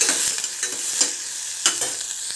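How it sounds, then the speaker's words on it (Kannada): Beans cooking in a little oil in a pan, with a steady sizzle broken by several scraping stir strokes, close up and with no talk. "ನಾವು ಬೀನ್ಸ್ ಪಲ್ಯ ಸ್ವಲ್ಪ ಎಣ್ಣೆದಲ್ಲಿ ಸ್ವಲ್ಪ ಹೊತ್ತು ಫ್ರೈ ಮಾಡ್ಕೊತೀನಿ."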